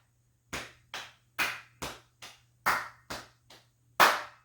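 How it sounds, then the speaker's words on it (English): Nine sharp percussive hits of hands slapping the right leg, the left leg, then clapping in a children's rhythm game, spaced unevenly with rising intensity, the last clap loudest, with a faint steady hum underneath. "we're going to slap the right leg, slap the left leg, clap"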